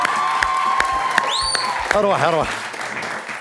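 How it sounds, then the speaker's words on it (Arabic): An audience applauds in a steady wash of clapping, with high whistles and voices calling out close by over it. "عطوني تصفيق حرة"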